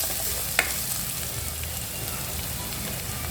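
Onions frying in a pan make a steady, close, rain-like sizzle with a single sharp click near the start.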